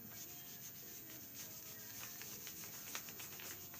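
Laser-printed paper edges rubbed to look burnt, a faint steady scratchy rubbing with small repeated strokes, close and quiet throughout.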